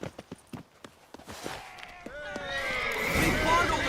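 A horse in The Witcher 3 video game, with clip-clop hooves early, then a loud, close neigh with a rising and falling whinny, amid shouting voices and game sounds.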